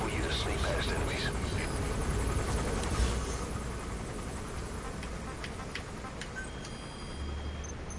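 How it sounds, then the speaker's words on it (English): An enemy gunship helicopter in Metal Gear Solid V thrums steadily with a loud continuous rotor drone, with game voices speaking over it. "That's an enemy gunship."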